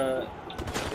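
Machine gun fire in the multiplayer video game Ghost Recon Wildlands crackles as a short, rapid burst late in the moment, partly under a voice chatting over the game audio.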